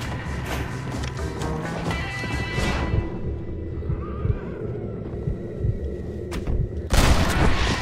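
A horse neighs and whinnies amid bursts of gunfire during an army convoy ambush in the Red Dead Redemption video game, with hoofbeats and sharp shots cutting through, ending in a loud blast.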